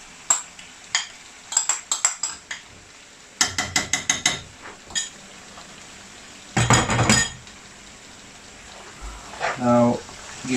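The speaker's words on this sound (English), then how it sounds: "Now give it a stir, mix it properly with the meat." Yogurt-marinated mutton for Rajasthani laal maas gets stirred in a pot, with bursts of metal spoon clanks and scraping in quick clusters between quieter gaps, a voice talking now and then.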